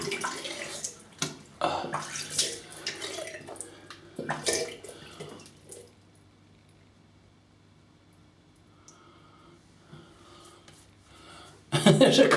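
Tap water runs briefly to wet a styptic during a shave, a close splashing rush in the first half that stops into near quiet, with a short splash again at the end.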